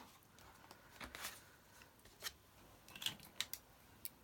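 Scissors cutting paper numbers out for a 50th birthday card, a few faint, close snips and paper rustles spaced irregularly in a quiet room.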